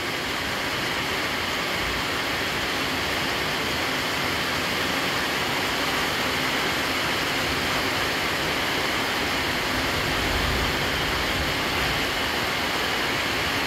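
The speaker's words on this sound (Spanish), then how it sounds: "Por ahí viene el agua otra vez." Heavy rain pours down steadily in Santa Ana, a dense, unbroken roar of falling water filling the whole stretch, loud and close with no talking.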